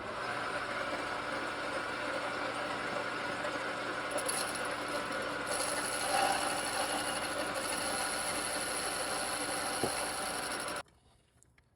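A lathe machining the 2.4 brake piston of a 4EAT automatic transmission, a steady mechanical whir and faint cutting hiss running continuously, then stopping abruptly near the end.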